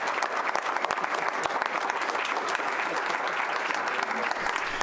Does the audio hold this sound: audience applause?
yes